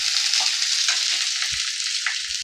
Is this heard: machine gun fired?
no